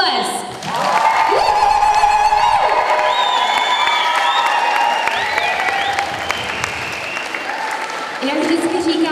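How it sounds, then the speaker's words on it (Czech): An audience at a children's summer camp show bursts into loud, sustained clapping mixed with cheers and children's shouts, with whistles and whoops rising over the crowd. "ještě jednou jim pojďte dát obrovský potlesk"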